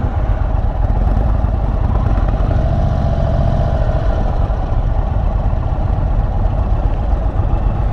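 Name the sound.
Indian Chief motorcycle riding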